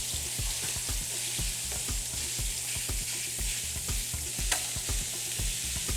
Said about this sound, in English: Ooh, sausage browning up.